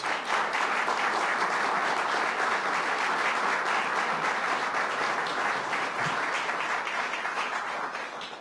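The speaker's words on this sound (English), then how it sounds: "Let's give her a round of applause." An audience at a state police superintendent swearing-in ceremony gives a sustained round of applause, dense and even, tapering slightly at the close.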